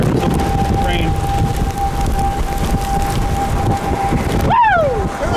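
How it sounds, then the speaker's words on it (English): Steady heavy rain hisses during a tornado passing through a wind farm near Crowell, Texas, in May, a loud continuous wash with a thin whining tone and a brief sweeping tone near the end. "Rain."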